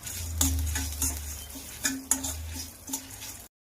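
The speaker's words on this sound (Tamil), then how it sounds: "அப்படியே கம்மியா தீ வச்சுதான், அனல் வச்சுதான் நம்ம வறுத்துட்டு இருக்கணும்" Lentils dry-roast in a pan over a low flame while a spoon stirs them, making a quiet, repeated scrape and rattle in loose strokes with a faint sizzle beneath and no talking.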